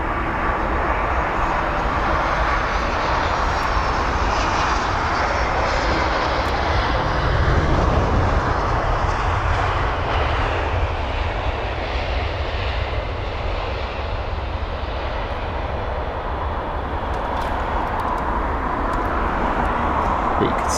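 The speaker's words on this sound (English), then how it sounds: "You can see there the aircraft struggling quite a bit towards the end there of his approach into London Heathrow." Fixed-wing airliner on a wobbly, struggling final approach into London Heathrow, a loud continuous engine roar and broadband rush holding steady throughout, swelling slightly near the middle, with no talk.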